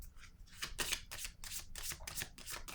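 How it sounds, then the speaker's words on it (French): Playing cards rustle and flick from a deck in a rapid series of soft, close papery riffles, quiet and alone with no talk. "Je vais piger une carte."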